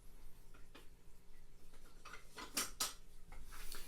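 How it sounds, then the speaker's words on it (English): Spoon stirring cold brew coffee grounds in a container of liquid, with scattered clinks and scrapes against the vessel and two louder knocks late on, close and fairly quiet. "So let me get a spoon here and I'll give this a stir."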